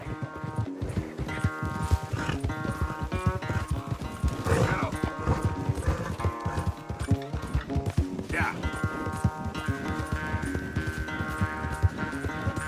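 Rapid rhythmic hoofbeats of a galloping horse during a race in Red Dead Redemption 2, with game music underneath, a brief snort or whinny, and a voice speaking a short word.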